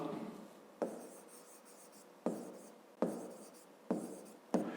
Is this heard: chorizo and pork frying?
no